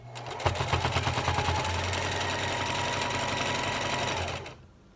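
A sewing machine stitching fabric for a face mask, a close, rapid mechanical whirr with a fast regular needle rhythm that runs steadily for about four seconds and then stops.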